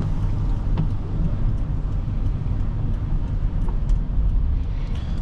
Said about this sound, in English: We got some good torque from the V6.